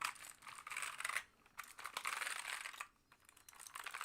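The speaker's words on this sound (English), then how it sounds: "get my other keyboard that is much louder" A louder, dusty spare computer keyboard clatters under fast typing, dense keystrokes in bursts with brief pauses, close and fairly quiet, no talk.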